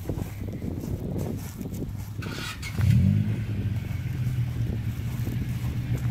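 A 2000 Honda Civic engine idles with a low hum, then revs up sharply near the midpoint and settles into a steady, louder tone during a Seafoam treatment, with wind noise on the microphone.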